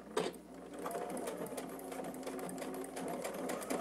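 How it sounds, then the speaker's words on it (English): A sewing machine chain-pieces small quilt fabric pieces, running in a continuous fast rattling stitch with light clicks and shifts in speed, close and fairly quiet. "When I'm doing a lot of chain piecing of little pieces like this"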